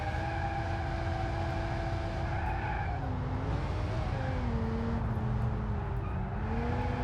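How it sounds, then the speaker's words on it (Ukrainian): A BMW M5 E60 drifts in BeamNG.Drive, its tires squealing continuously for the whole stretch, the shrill tone sliding up and down as the slide changes, over a steady engine roar. "Так, Вася, вчись е, контролювати тачку в дрифті, давай"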